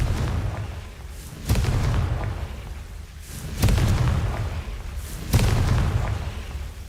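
Confringo blasting spell explosions in the video game Hogwarts Legacy, three loud booming blasts spaced about two seconds apart, each with a rumbling tail and no talk.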